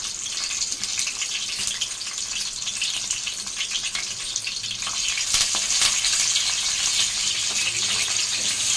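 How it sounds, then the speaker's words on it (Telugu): Bay leaf, green chilies and curry leaves fry in hot oil for a fish curry, giving a loud, continuous close-up sizzle with crackling bubbles that swells slightly toward the end. "ఆయిల్ కొంచెం హీట్ అయ్యాక అందులోకి బిర్యానీ ఆకు, పచ్చిమిర్చి, కరివేపాకు,"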